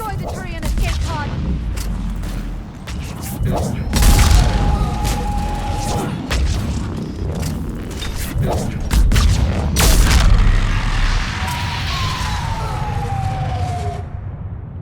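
A Reaper harvester attacking in the Mass Effect 3 battle near a Turian escape pod: loud booms, gunfire and wailing siren-like tones in a chaotic combat scene, with shouted voices over it.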